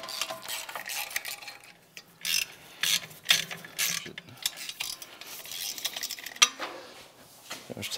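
Hand ratchet loosening bolts on a Honda Goldwing motorcycle during clutch work, close-up bursts of rapid clicking pawl ratcheting separated by short pauses, with light metallic handling clinks.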